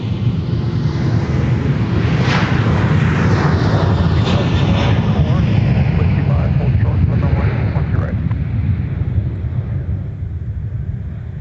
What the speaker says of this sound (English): Delta 365 departing off runway 4 with a 737 to Cincinnati, Ohio.